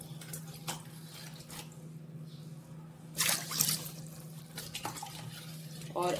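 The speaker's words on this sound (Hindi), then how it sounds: "मैं इसमें 4 कटोरी ही पानी भी डालूंगी" Water being poured into sugar in a pot to make jalebi syrup, heard as intermittent splashing and trickling bursts with drips, close and fairly quiet over a faint background hum.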